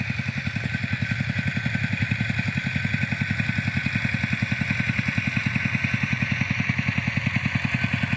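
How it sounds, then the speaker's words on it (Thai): A tractor engine runs steadily on a rubber plantation, a loud close rhythmic chugging with a constant fast pulse and no talk over it. "รถไถ"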